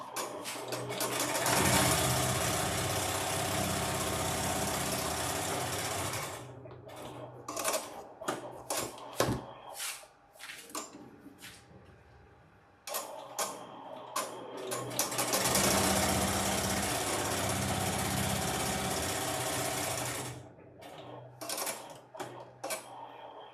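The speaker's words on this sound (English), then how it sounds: "Go back to the machine and run our placement stitch." Embroidery machine running a placement stitch for an in-the-hoop zipper bag, a steady loud rapid needle chatter for about six seconds, pausing through scattered clicks and thumps, then another long continuous stitching run.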